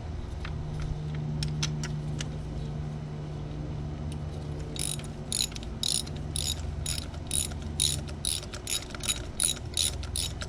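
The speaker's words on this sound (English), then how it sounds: "Then we tighten, and then once it's snug, we're going to use our torque wrench to torque it down" A ratchet tightening a new spark plug on a Pontiac Vibe engine: a few scattered clicks, then a steady run of rapid ratcheting clicks, close and clear over faint background hum.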